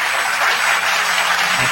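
An audience breaks into loud, dense applause that holds steady and continuous for the whole short stretch.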